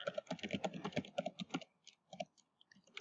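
Quick bursts of typing on a computer keyboard, close and quiet, a rapid run of key clicks that thins into a few scattered taps.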